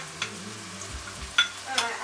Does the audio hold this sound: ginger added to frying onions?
yes